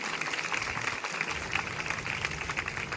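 A crowd at a street rally held by the Christian community over a religious conversion issue applauds steadily, a dense, even wash of clapping heard from a distance and fairly faint throughout.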